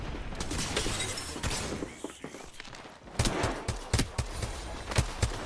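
Rapid bursts of gunfire from an online shooter game, sharp repeated cracks clustered in the second half over a busy background of game sound effects, with faint talk mixed in.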